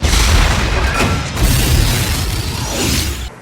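A loud, sustained boom of an explosion as a battleship is hit by fire in a naval battle from the film Battleship, with rumbling low-end blasts and crashing debris filling the scene throughout.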